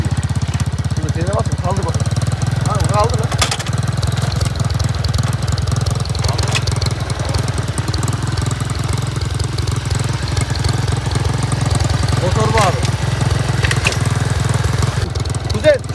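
An Apache motorcycle engine runs steadily nearby with a chugging low rumble, while people talk and shout over it at times.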